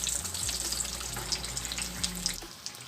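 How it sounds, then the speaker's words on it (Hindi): Aloo tikki shallow frying in oil in a pan, a steady soft hiss and crackle with faint bubbling throughout, close and even, with no talking. "देखिए कितना प्यारा कलर आ रहा है, शैलो फ्राई हो रही हैं।"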